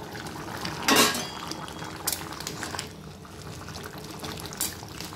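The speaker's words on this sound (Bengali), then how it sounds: "দেখুন এটা আমাদের ফুটছে" Potatoes simmer in a covered pot for dum aloo, a soft bubbling and liquid burble with a louder splashy surge near the start and a few lighter clinks and bursts afterward.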